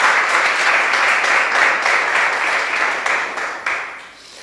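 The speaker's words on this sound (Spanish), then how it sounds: "¿Cuántos les dan un aplauso a nuestro Señor?" Congregation applause for the Lord during a Spanish-language church discipleship service, a steady wash of clapping from many hands that holds evenly before tapering off near the end.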